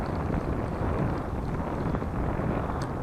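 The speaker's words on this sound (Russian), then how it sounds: "Далеко пока кинуть ветер не дает." Steady broadband wind buffets the microphone throughout, a continuous rushing roar on the Yenisei river near Tatyshev Island during grayling fishing, with no talk.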